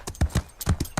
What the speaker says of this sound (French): Zoé, ton cheval ne peut pas faire quelque chose qu'il n'a jamais appris.